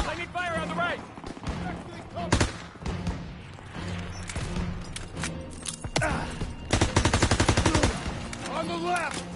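Gunfire in the World War II shooter Call of Duty WWII crackles in rapid single shots and a dense machine-gun burst, mixed under a voice and game dialogue, with thuds scattered throughout.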